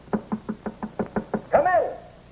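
Eight evenly spaced knocks on a door sound in an old radio drama, crisp and close, followed by a brief voice.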